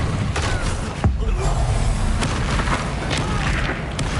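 A Confringo fire spell blasts in the video game Hogwarts Legacy, with a sharp booming explosion about a second in, set over a dense, continuous bed of game combat noise and effects.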